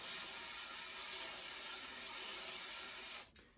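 A paintbrush is swept in continuous circles on a box, making a steady, airy swishing hiss that stays even throughout and cuts off abruptly just before the end.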